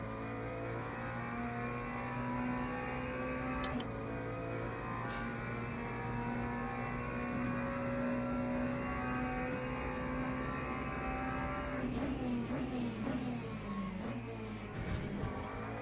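A hypercar from the racing game Le Mans Ultimate passes with a steady, loud engine drone that shifts in pitch near the end, with no talk.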